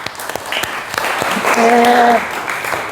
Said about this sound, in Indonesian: Bisa beri tepuk tangan ke Ilham.